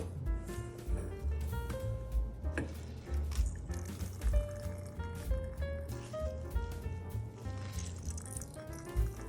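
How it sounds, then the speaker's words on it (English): Grated radish and carrot being squeezed by hand to press out moisture for Japanese New Year pickles: soft wet squishing and drips, low and continuous, partly under steady background music. "squeeze out as much moisture as you can from radish and"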